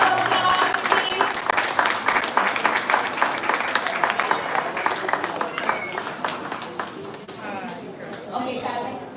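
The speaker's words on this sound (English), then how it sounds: "Let's give everyone on the stage a round of applause, please." Audience clapping at a primary school spelling competition, a crowd giving the contestants on stage a round of applause; sustained, moderately loud clapping with a murmur of voices, tapering toward the end.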